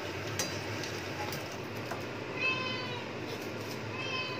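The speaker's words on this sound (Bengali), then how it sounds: "মিনি তুমি যে ম্যাও ম্যাও করো" A pet cat meows near a home kitchen where papad is being fried. A couple of short, clear meows sound close by over a low background hum and faint clinks.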